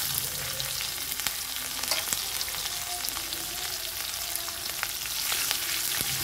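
Garlic cloves and green chillies fry in a pan for besan lauki sabzi, giving a steady, close sizzle with scattered crackles and faint stirring throughout, no voices.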